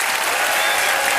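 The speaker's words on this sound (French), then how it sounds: "qu'on puisse applaudir très fort mes nouveaux invités" A large studio audience at a televised New Year's Eve cabaret show gives loud, sustained applause to arriving guests, a thick unbroken wash of clapping.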